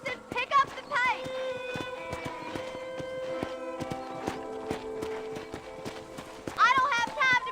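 Horse hooves clip-clop steadily in Red Dead Redemption gameplay while riding, with a horse neighing at the start and end, and voices talking over the hooves.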